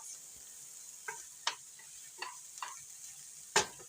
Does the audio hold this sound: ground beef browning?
yes